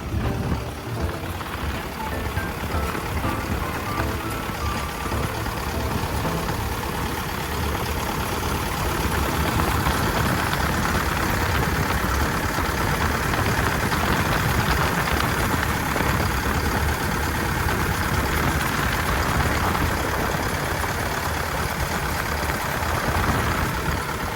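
The diesel engine of a 12-ton Hitachi ZX135US-3 excavator idles steadily nearby, a low rumbling drone that grows slightly fuller after the first few seconds and holds constant throughout.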